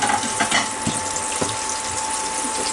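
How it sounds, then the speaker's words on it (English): Pork chops frying in a pan give off a steady, fairly close sizzle and crackle, continuous and unbroken, with no voices. "Now you can see those things sizzling right away down in there."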